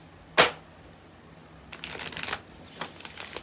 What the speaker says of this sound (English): We're going to get 2 more shuffles.